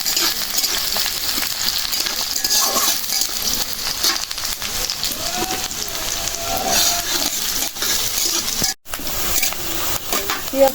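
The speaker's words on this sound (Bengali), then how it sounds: "শাকটা ভাজা হয়ে গেছে" Leafy greens fry in a pan, giving off a continuous, close hissing sizzle with small crackles, alone and without talk, and cutting out for a moment near the end.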